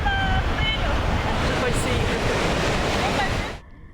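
Pacific Ocean surf at Santa Monica beach makes a steady, loud wash of breaking waves blended with wind buffeting the microphone, continuing for several seconds before cutting off abruptly.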